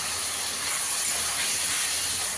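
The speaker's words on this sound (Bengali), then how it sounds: "একটু জল দিয়ে দেবো মশলাটা যাতে পুড়ে না যায়।" Spice paste with chili powder frying in a pan hisses loudly as a little water is added, a steady close, bright sizzle that holds unbroken from start to end.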